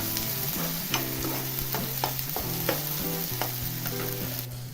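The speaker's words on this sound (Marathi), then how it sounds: "त्यामध्ये थोडंसं मी मीठ टाकणार आहे, म्हणजे टमॅटो शिजला जातो पटकन" Tomatoes with salt cook in a pan with a steady sizzle, while a spoon scrapes and taps against the metal in repeated strokes and a low hum runs underneath.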